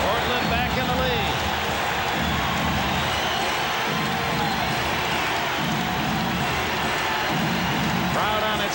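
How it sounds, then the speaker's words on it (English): Arena crowd noise at a 1992 NBA playoff basketball game between the Jazz and the Blazers in Portland, a loud sustained roar of cheering that fills the whole stretch, with a commentator talking over it. "Crowd on its feet."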